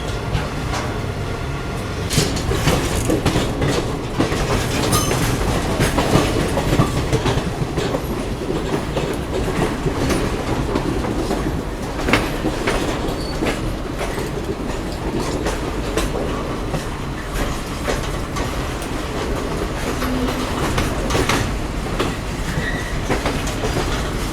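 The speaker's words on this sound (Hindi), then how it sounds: "उससे पहले मालगाड़ी के साथ जरूर पैरेलल चल रहा है मथुरा पहुंचने से पहले" Passenger train running parallel to a goods train on the approach to Mathura, with continuous rumbling wheels, rhythmic clickety-clack over rail joints and occasional squeals, loud and close throughout, no voices.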